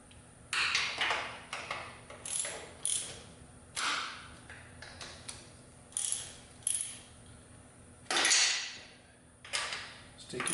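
Rapid ratcheting clicks in repeated bursts as a ratchet wrench tightens engine bolts in a crisscross pattern during a Victory 106 cam install, each burst of clicks separated by short pauses.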